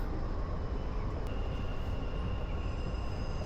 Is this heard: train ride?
yes